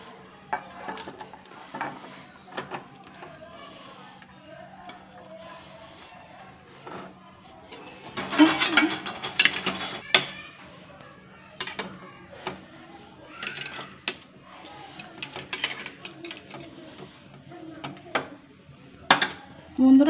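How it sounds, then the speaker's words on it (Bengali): With the gas turned off, a spoon stirs aloo dum in a metal pan, producing scattered scrapes, clinks and clatters that rise in short busy bursts, close and moderately loud. "এবার গ্যাস বন্ধ করে নাড়িয়ে নিতে হবে"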